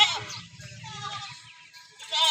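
Rajanpuri goats at a goat farm bleat close by, with a harsh cry at the start and another at the end, separated by softer overlapping calls and low rumbling.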